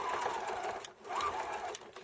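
A sewing machine runs steadily, stitching a fabric square onto a foundation piece for a folded star quilt block, its close, continuous mechanical whir dipping briefly once partway through.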